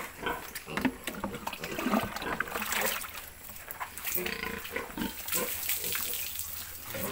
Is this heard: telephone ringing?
no